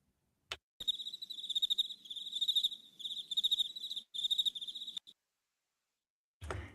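Crickets chirping in rapid pulsing bursts, clear and close, with short pauses between trills and a couple of sharp clicks at the start and end.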